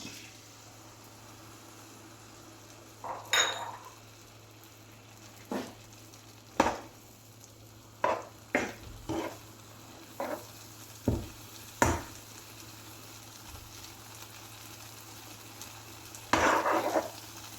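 Sweet banana batter sizzles in a pan over fried banana pieces, a low steady fry broken by a regular series of spoon scrapes and knocks against the pan as it is stirred.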